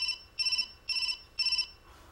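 A telephone rings in four short electronic trilling bursts with even gaps between them, fairly faint, with no talk over it.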